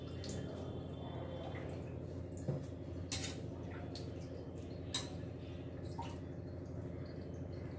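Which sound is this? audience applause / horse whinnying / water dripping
water dripping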